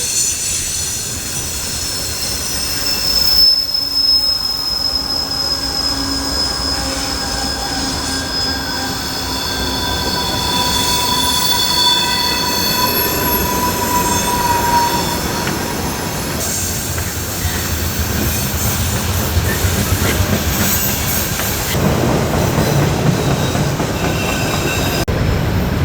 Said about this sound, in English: It's so loud. It's been like 5 minutes and the train is still going.